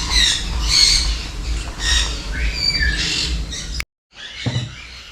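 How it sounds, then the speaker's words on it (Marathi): Repeated harsh parrot squawks over a steady background hum at a bird park, several loud calls in a row, then a brief silence and one more squawk. "वेगवेगळ्या कलरचे पोपट आहेत"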